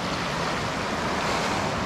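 Gentle sea waves washing steadily onto a rocky shore beside a forest, a continuous soft surf wash with light wind, no voices.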